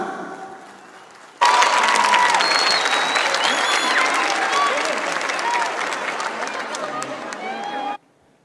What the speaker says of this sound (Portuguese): Vamos receber o nosso líder com uma calorosa salva de palmas.